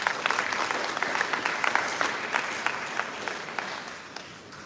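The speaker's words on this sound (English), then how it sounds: "Let's give them a round of applause" An audience claps for dancers at a Bharatanatyam arangetram, steady dense applause filling the hall at an even level throughout, with no voices standing out.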